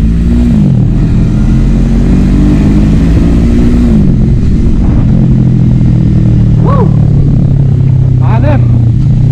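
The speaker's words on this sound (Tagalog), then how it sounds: "Lakas ng makina" An FKM Falcon X400 motorcycle engine revs loudly and close, rising and falling in pitch over a constant heavy rumble, with brief higher revving near the end.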